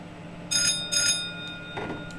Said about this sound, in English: I really like that bell